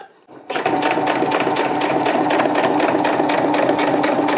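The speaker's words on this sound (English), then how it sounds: "I'm just going to sew right up between the two for the first step." A sewing machine stitches fabric for the collar of a homemade ultralight backpack, starting after a brief quiet moment and then running as a steady, close, continuous whir with a fast mechanical chatter.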